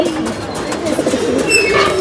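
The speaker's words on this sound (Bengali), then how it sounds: "এই ছেড়ে রাখছি কিছু কবুতর" Racing pigeons coo softly and repeatedly nearby in a loft, their low burbling calls overlapping in a continuous murmur.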